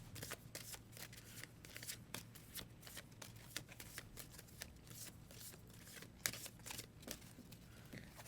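A deck of game cards is riffled and shuffled during a Dune: Imperium tabletop game, a close, quiet run of rapid flicking and snapping strokes with no talk.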